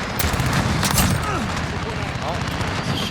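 Heavy video-game gunfire in a Call of Duty R9-0 shotgun loadout match: dense, overlapping blasts and chatter with no pauses, under excited talk from a player.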